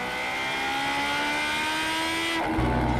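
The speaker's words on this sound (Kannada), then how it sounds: "ಜೋರ್ ಸೌಂಡ್ ಬರೋ ತರ ಬೈಕ್ ಓಡಿಸ್ತೀಯಾ" A loud motorbike engine revs with a steady, droning pitch that holds for a few seconds, then shifts abruptly near the end.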